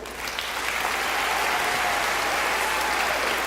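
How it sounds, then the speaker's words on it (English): An audience at an elementary school Blue Ribbon ceremony bursts into full applause that swells within the first second and holds as a loud, dense, sustained roar of clapping. "let's give them one more round of applause"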